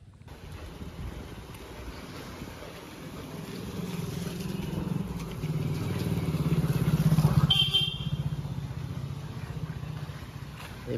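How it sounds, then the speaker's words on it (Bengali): An electric rickshaw (toto) drives through a flooded market street in Deulia Bazar, its wheels deep in water, a low steady rumble and splashing that swells as it approaches, with wind noise throughout. "দেখতে পাচ্ছেন টোটো আসছে, পুরো একদম চাকা ডুবে ডুবে আসতেছে"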